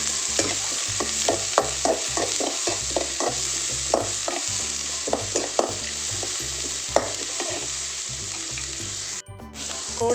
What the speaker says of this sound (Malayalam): സവാള ഇട്ടിട്ട് നന്നായിട്ടൊന്ന് വഴറ്റിയത്